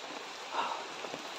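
Rain falls steadily outdoors near a dead tree, a soft, even hiss of drops on surfaces with no pauses over the short stretch.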